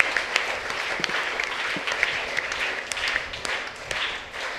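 A crowd applauds at a church novena Mass, with steady, moderately loud clapping that runs throughout without pause.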